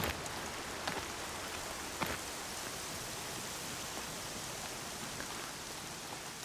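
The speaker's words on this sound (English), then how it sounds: "Cold November rain" Rain falls steadily in the video game Horizon Zero Dawn, a continuous even hiss with a few louder drop taps, heard alone without voices.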